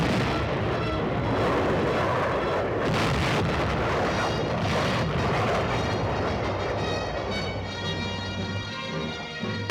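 A long, loud, continuous roar of artillery and air bombardment pounds an enemy blockhouse, with rumbling blasts layered together and rising, crackling bursts throughout.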